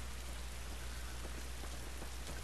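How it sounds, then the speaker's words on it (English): Steady, dense rainfall in The Last of Us falls as an even hiss of drops on surfaces, moderately quiet and constant throughout with no pauses. "This rain ain't gonna do us any good"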